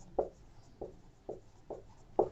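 During an optics physics lecture, someone writes on a classroom board in five short, evenly spaced strokes. Each lands as a quiet, close tap with no talking.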